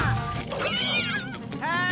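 Cartoon cats let out drawn-out, bending meows, two loud cries in quick succession close to the listener, with a busy animated scene behind them.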